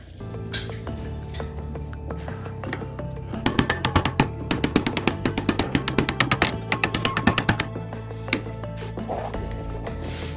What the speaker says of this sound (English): Okay, so doing this with a hammer